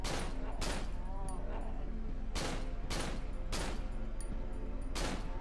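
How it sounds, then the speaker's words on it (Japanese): Repeated bursts of M16 rifle fire in the horror video game Cry of Fear, five or six sharp, loud shots spaced irregularly over a steady background hum. "こいつを倒すのに M16 を使って"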